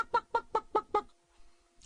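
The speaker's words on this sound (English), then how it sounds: "accompanied by mass clucking" Chickens clucking in a rapid, even run of five sharp calls, close and clear, then a quiet pause, heard amid British soldiers marching to camp in North Africa.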